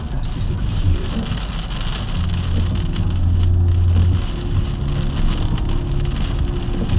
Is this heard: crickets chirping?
no